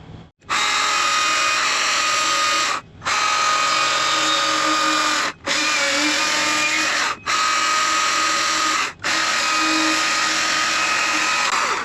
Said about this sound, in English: I'm gonna take that chainsaw, just take about a 1/2 inch out of that.